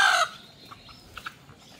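Native chickens awaiting slaughter give one brief loud cluck, then a few faint scattered clucks in quiet surroundings.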